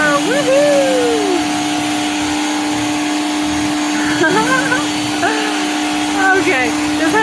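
A Greenworks pressure washer with an 11-inch surface cleaner attachment runs with a loud, close, steady whine and hum, while excited voices talk and exclaim over it.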